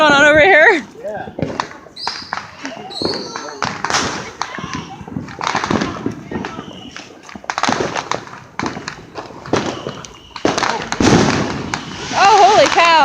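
Fireworks explode in a city during a July 4th celebration, with repeated loud bangs and crackling bursts through the whole stretch while people talk and cheer over them.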